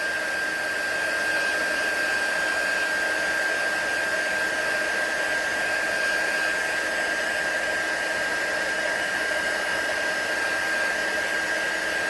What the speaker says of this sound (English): And then once they have embossed, turn your heat tool off.